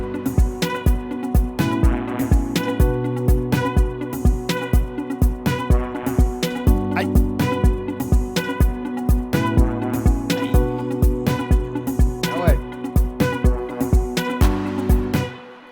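Afro house track built from FL Studio stock plugins: a steady four-on-the-floor kick with busy percussion, warm chords and a synth lead layered throughout, dense and loud without any voices.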